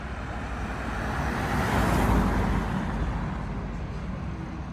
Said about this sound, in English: Got a car coming this way.